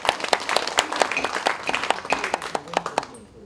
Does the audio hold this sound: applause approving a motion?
yes